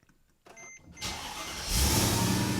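A Mercedes E55 engine fires up via push-button start after a quiet moment, catching and settling into a loud, steady idle close by, with no talking.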